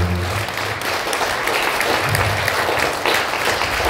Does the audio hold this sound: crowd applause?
yes